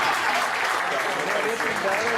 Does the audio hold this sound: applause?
yes